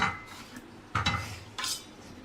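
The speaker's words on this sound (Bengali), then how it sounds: "আমি থালা নিচ্ছি" Metal plates and utensils clatter at a home kitchen while fried fish is being served for a family meal, with three short clinks and knocks standing out over quiet room tone.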